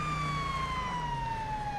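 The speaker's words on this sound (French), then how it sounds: "Je coupe les sirènes." A police car siren wails steadily in GTA V, a loud, sustained tone sliding slowly downward, heard close over engine rumble.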